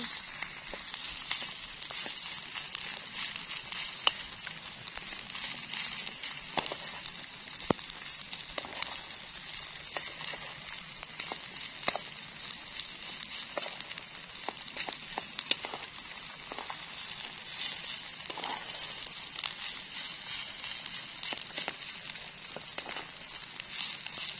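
Heavy rain falls steadily on a tent during overnight solo camping, a dense, continuous crackle of drops on fabric with sharper scattered taps, close and fairly quiet throughout.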